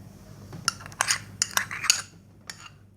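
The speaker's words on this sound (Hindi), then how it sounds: "सारी चीज़ें मैं ऐड करके तो इसको अच्छी तरह जो है मिक्स कर लेंगे।" A spoon clinks against a bowl while chicken tikka marinade with yogurt and lemon is stirred, giving a short run of close, bright metallic taps and scrapes that then fall quiet.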